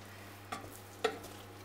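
Choux pastry dough is stirred and dried out in a saucepan over low heat, giving two short scraping strokes against the pan over a faint background hum.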